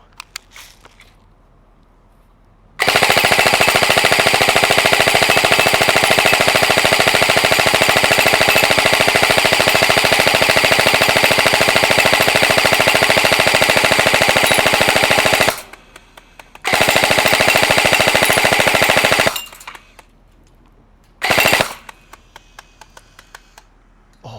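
A G&G CM16 airsoft light machine gun with a sound-activated box magazine rattles in long, loud full-auto bursts: one sustained stream lasting over ten seconds, a shorter burst after a pause, then a brief final burst.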